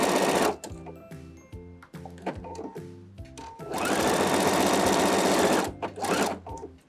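A sewing machine stitches a seam on a T-shirt being resized, running in short rhythmic bursts, then one long continuous run before stopping again, loud and close.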